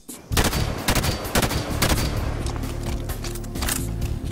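Rapid bursts of BR-85 battle rifle fire in Halo 5 crack out loud and close, several shots in quick succession over a steady low game hum.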